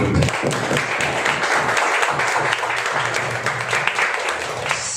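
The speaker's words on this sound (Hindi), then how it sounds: "और जोरदार तालियां दीजिए परमेश्वर के लिए।" Sustained, loud applause fills a Sunday evening church service as a standing congregation claps, dense and continuous throughout.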